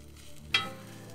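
Turkey cheese steak filling being mixed on a hot griddle, with a quiet steady sizzle and one brief scrape of the spatula partway through.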